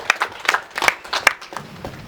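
Sparse hand claps from a small group at a speech inside a refurbished national stadium, a handful of separate, uneven claps rather than full applause.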